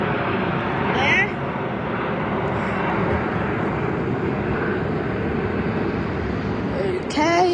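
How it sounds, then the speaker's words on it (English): An Alaska Airlines Embraer jet taking off at Los Angeles airport, a broad, steady roar of jet engine noise heard from a distance, continuous throughout with wind-like wash and a brief voice near the end. "Will we have a takeoff of a Alaska Embraer?"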